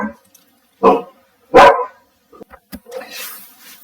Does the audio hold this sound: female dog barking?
yes